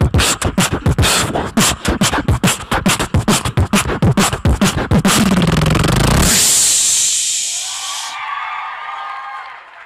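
A voice imitates a full drum kit by mouth: a fast, steady run of punchy kick and snare hits for about six seconds, then a long cymbal-like hiss and a swelling ringing tone, loud and close, with no talking.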